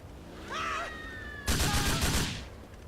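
In the video game GTA, a quick burst of gunfire cracks out loudly after a brief electronic tone, as a rapid cluster of shots lasting about a second before it fades.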